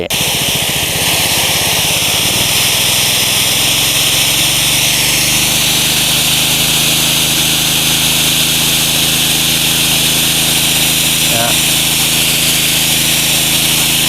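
A small gasoline engine on a Mitsumax GX20H2 high-pressure water pump runs loud and steady with a continuous rushing spray; the pitch settles after a brief rev early on.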